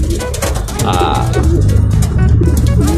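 Racing pigeons coo and flutter close by as they are loaded for a training release, a dense, busy murmur of soft calls with some background commotion.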